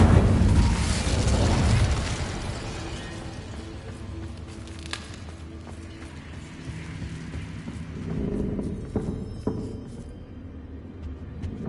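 A fire spell cast in the Hogwarts Legacy video game, a loud whooshing burst at the start that settles into a low rumbling roar, with a few sharp crackling pops and a second swell of flame near the end.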